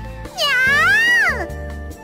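A high, bending cat meow from the Nekopara video game, one drawn-out call rising and falling over a faint repeating musical backing, loud and close.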